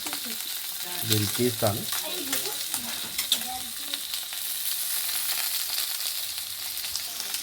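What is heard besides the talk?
fish frying in oil until golden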